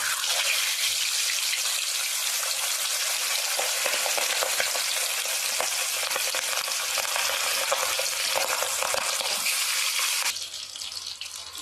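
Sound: frying boal fish pieces in a little oil

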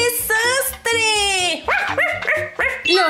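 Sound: cartoon puppy barking

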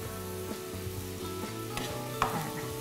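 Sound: stir-frying minced pork until cooked

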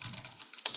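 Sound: pressing Enter on a computer keyboard

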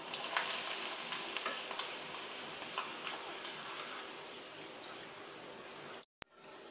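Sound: appalam (papad) frying in hot oil

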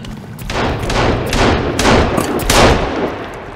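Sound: gunfire shooting at a creature in the video game Sons of the Forest

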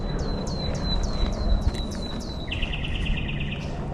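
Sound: birds singing outdoors

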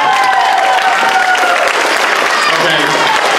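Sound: audience applause at a school talent show

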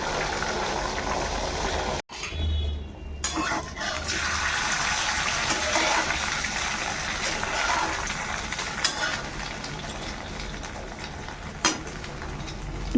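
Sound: eggs poured into hot oil and frying

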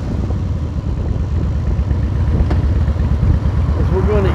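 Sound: motorcycle riding down the road

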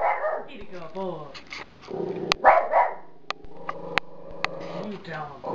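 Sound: Shih Poo dog barking

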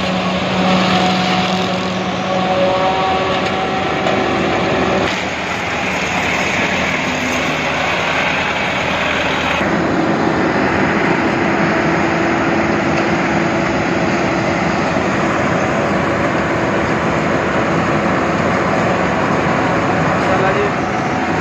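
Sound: Claas silage machine running, made in Germany

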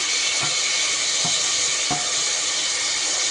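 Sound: onion and tomato frying in a pan

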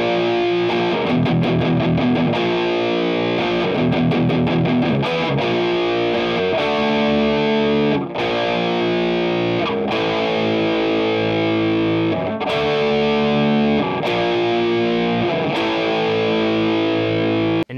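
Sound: distorted electric guitar playing an intro riff

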